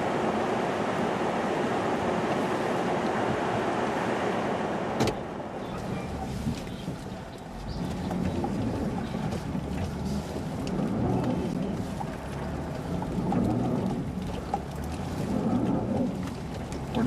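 An all-wheel-drive car strains and roars as it is towed out of deep snow during a historic winter storm, a loud continuous engine and wheelspin rumble with a sharp knock near five seconds, with brief voices under it.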